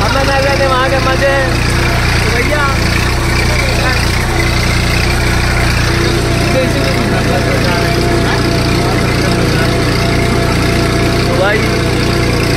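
A faulty John Deere tractor's engine idles close and loud with a steady low rumble and vibration throughout, while voices talk faintly over it.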